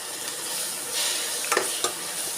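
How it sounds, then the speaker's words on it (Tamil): Chopped tomatoes fry with a steady sizzle in a pan for idli upma, while a couple of quick spoon scrapes from stirring cut through the frying hiss. "அதையும் போட்டு ஒரு நல்லா கிளறி விடுங்க."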